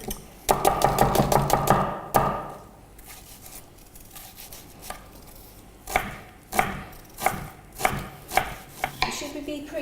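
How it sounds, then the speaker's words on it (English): A knife dices onion and garlic finely on a cutting board for meatloaf: a fast burst of rapid chops, a pause with softer scraping, then slower, evenly spaced cuts, all close and clear without speech. "I'm going to dice an onion and the garlic to give this meatloaf a really nice taste."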